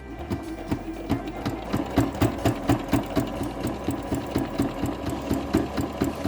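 A sewing machine stitches a cathedral window quilt block, running at a slow, steady pace with an even rhythmic clatter of the needle, close and alone without talk.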